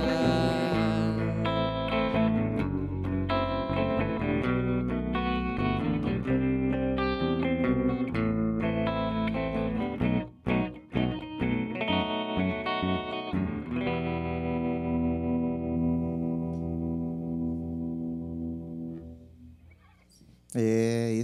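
Song by a Belo Horizonte band, a full-band rock track with distorted, effected guitars, bass and drums driving loudly for ten seconds, then breaking into a sparser, sustained section that fades out near the end.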